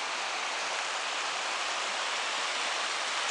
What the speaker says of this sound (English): This is what I'll be sleeping to tonight. Sound of this rushing river.